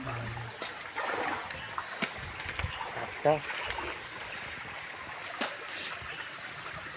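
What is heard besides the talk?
river water flowing in Konkan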